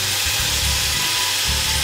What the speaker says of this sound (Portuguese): Vai fritando ela aos poucos.